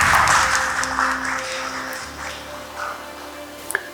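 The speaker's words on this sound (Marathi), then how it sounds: "जोरदार टाळ्या होऊन जाऊ दे." An audience at a women's leadership panel discussion claps together in a sustained burst that gradually thins out, heard in a hall with faint background hum and no talking.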